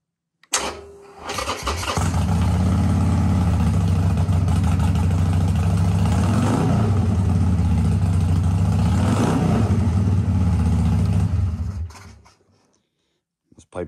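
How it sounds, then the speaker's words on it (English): A 2016 Harley Sportster XL1200C motorcycle with loud aftermarket pipes starts indoors, cranking into a deep, loud idle that swells in two throttle revs and then cuts off after about eleven seconds, close up with no talk. "I'm going to start this bike up for you, give you an idea of what it sounds like."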